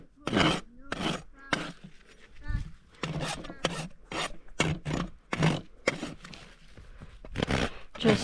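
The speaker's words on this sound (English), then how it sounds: "Just smoothing out my nipper cuts with the rasp." A farrier's rasp smooths the nipper-cut edge of a freshly trimmed horse hoof, giving a series of rhythmic, scratchy rasping strokes up close, roughly one per half second, with a few quieter pauses between.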